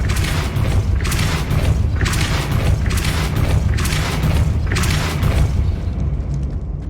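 Depulso spell casts in Hogwarts Legacy: a run of about five rhythmic whooshing bursts roughly a second apart over a constant deep rumble, all loud and close.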